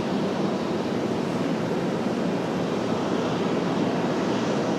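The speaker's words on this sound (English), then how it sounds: "So we got JetBlue on the roll for departure" A JetBlue airliner makes its takeoff roll at RDU airport, heard as a broad, steady roar of engine noise mixed with wind buffeting on the microphone, holding level and fairly loud throughout.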